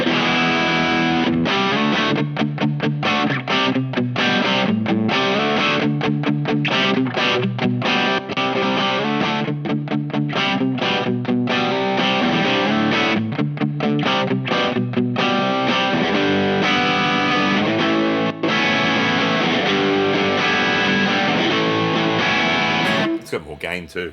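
Electric guitar played through Brothers AM and King of Tone overdrive pedals on the distortion side, a loud, gritty driven tone with strummed chords and riffs ringing steadily before cutting off at the end.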